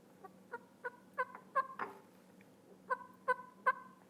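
A hunter imitates a hen turkey's fly-down cackle on a call, a run of sharp clucks quickening and building to a burst, then a few more clucks, close and alone.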